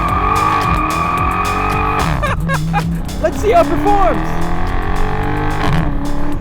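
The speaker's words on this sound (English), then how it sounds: "Do you hear that upshift backfire?" A 2023 Chrysler 300C with the 6.4-liter Hemi V8 pulls hard through the gears, engine note climbing then breaking into a cluster of sharp pops around an upshift, loud and close, with a person speaking briefly over it.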